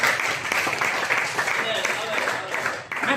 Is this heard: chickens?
no